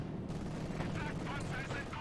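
Tank cannon fire from a Comet with a high-velocity gun, shooting at a mortar in Company of Heroes 2, heard as a dense, continuous barrage of battle noise with repeated shots and rumble over two seconds.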